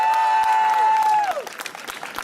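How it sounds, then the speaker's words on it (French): An audience at a French stage show, with a vocal impersonator on stage, claps for three young women, a loud burst of applause that fades quickly after a held sung note. "je vous demande très fort d'applaudir ces trois charmantes demoiselles"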